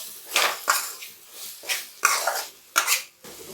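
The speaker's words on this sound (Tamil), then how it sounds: "இந்த ஸ்டேஜில் 2 வாட்டி கிளறி விட்டுக்கோங்க." A spoon stirs thick, oily spicy tomato thokku in a pan, giving about six separate scraping, slapping strokes in an uneven rhythm, close and fairly loud, with no talk.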